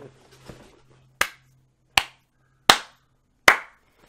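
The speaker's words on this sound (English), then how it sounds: "I have to clap." Four sharp, separate hand claps ring out, evenly spaced and close, after a faint low hum and a few quiet sounds at the start.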